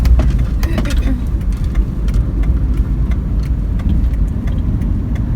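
A Suzuki APV van's engine runs steadily while being driven with a manual transmission, a loud, close low rumble heard from inside the cabin with small clicks and knocks over it.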